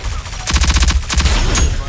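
Rapid bursts of gunfire from a Rogue Company match, two clustered volleys of sharp repeated shots with a third single crack, loud and close.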